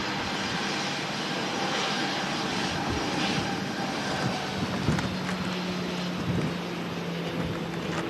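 Engines of an Aer Lingus UK Airbus A330 run on the ground at Manchester Airport in strong storm winds, making a loud, sustained jet whine and roar with a low steady hum running beneath, and gusty noise around it.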